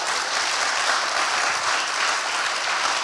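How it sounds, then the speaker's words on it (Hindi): Steady, dense applause from a congregation at a Sunday Hindi church service, loud and continuous throughout, with no talk. "एक जोरदार ताली बजाए।"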